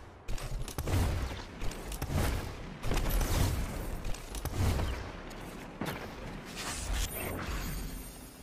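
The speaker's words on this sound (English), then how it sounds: "That's basically how that minigun works." An exotic minigun in Destiny 2 spins and fires in repeated sustained bursts, each a loud rattling stream of rounds with mechanical whirring between volleys, heard close with no talking.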